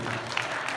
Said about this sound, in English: Give her a big cheer.